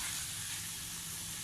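Minced meat keema fries in ghee and butter, a continuous close, bright hissing sizzle lasting a second and a half with no voices.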